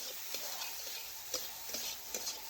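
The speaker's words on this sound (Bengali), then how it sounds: "এখন নাড়াচাড়া করে একটু আমি সয়াবিনের কাঁচা গন্ধটা যাতে চলে যায় একটু ভেজে নিচ্ছি" Soybean chunks fry in a wok with salt and a pinch of turmeric, a soft steady sizzle beneath several light scraping and tapping stirs of a spatula.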